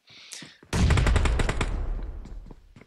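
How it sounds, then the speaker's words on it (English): Gunfire in a video game battle royale duo tournament match: a few faint, scattered shots, then a loud rapid burst of automatic fire that trails off into softer shots. "And it looks like there's some more shots here."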